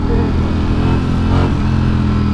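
A Ducati Streetfighter V4 SP motorcycle's V4 engine runs loud and close, holding a steady, rich rumble with a slight rise in revs partway through, with no voices over it.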